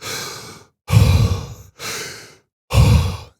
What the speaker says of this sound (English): So I consciously full exhale, kind